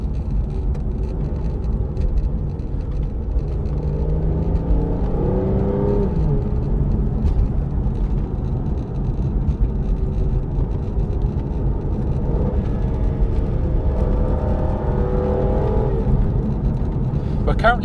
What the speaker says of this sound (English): Currently driving it in sport mode.